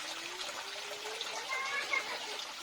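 Water trickling and flowing steadily in a small aviary housing a flock of conures, a soft continuous wash with faint bird chirps scattered over it.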